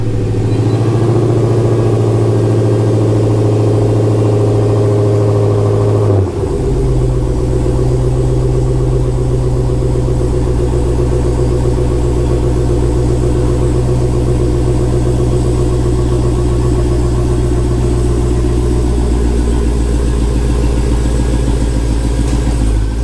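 A car engine idles loudly and close while the car backs off ramps in a garage. The low, steady drone shifts in pitch once early on, then holds a constant rumble with no talking.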